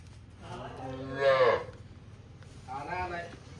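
Two moos from cattle (buffalo and cows tethered on a mat), a longer, louder one followed by a softer second call, close by with faint background noise.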